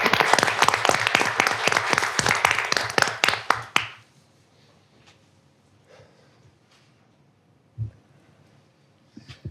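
An audience at a college board of trustees meeting applauds its competitive cheer team: dense, loud clapping for about four seconds that stops abruptly, followed by quiet room noise with a couple of faint knocks.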